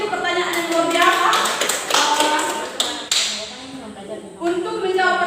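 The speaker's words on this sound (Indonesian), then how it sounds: "beri aplaus untuk Nunci, itu pertanyaan yang luar biasa" Classroom applause, a brief ragged patter of many hands clapping, fairly close, mixed with a teacher's voice talking over it.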